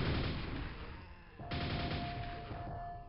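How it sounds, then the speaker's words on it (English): Grenade blasts and gunfire in the Quake video game: dense, continuous loud bursts of explosions and shots, with a sharp new blast about halfway through followed by a sustained tone. "Wow, look at these grenades coming in."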